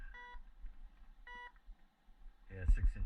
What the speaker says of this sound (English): It's not steady on the beeping here.